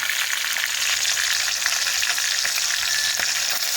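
A beef roast searing in a hot pan gives off a loud, dense, continuous sizzle with a few faint clicks, close up and alone.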